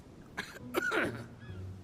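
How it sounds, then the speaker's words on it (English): A few short, rough coughs in quick succession in the video game The Council, fairly quiet, followed by a brief voiced throat sound. "Get that fake ass cough out of here."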